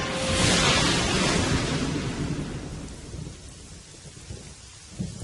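A thunderstorm: a deep rolling rumble of thunder over steady heavy rain, the thunder gradually fading while the rain continues.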